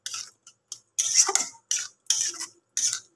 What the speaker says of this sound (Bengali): গরম মশলাটা দিয়ে আমি আরেকবার একটু মিক্স করে নেব